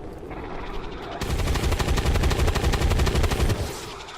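Heavy automatic gunfire from big guns in the video game XCOM 2, a rapid sustained burst of loud close shots running for several seconds over a rumbling background, no talking.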